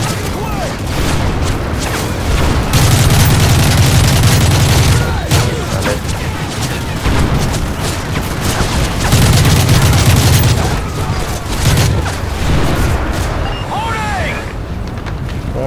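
Call of Duty: Modern Warfare 3 gameplay full of heavy booming explosions and rattling gunfire, loud and continuous throughout, with a voice talking over the battle noise.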